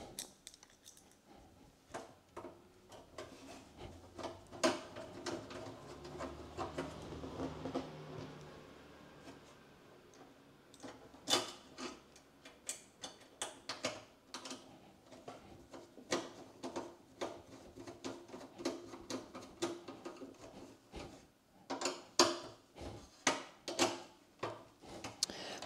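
Screws are driven by hand into a desktop PC case during a repair, with many sharp, irregular clicks, taps and scrapes of metal and plastic, close and moderately quiet, spread across the whole stretch.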